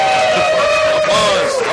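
A live in-store audience at Golden Eagle Comics cheers and whoops at a comic podcast's tenth-anniversary show, a loud, dense burst of crowd noise with yells held steady for under two seconds.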